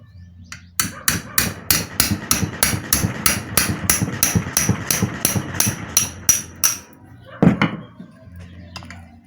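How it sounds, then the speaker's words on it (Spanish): Rapid, steady tapping of a small hammer on a centrifugal water pump under repair, around two dozen close, sharp metallic strikes in an even rhythm, then a pause and one last heavier knock. "ahora voy a utilizar también un martillito."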